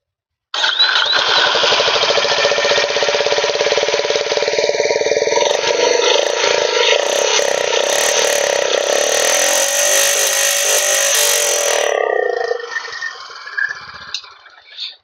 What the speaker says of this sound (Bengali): আপনাদের এক্সস্ট সাউন্ডটা সাইলেন্সারে আপনি শুনিয়ে দেবো একবার